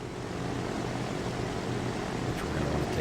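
A cargo plane in Transport Fever 2 drones steadily overhead, a continuous propeller-engine hum with a broad whooshing wash, held at an even loudness with no voices.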